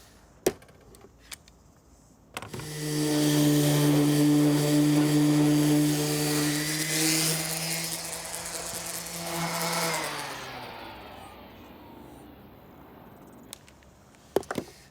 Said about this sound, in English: let's just dress those edges up with a sander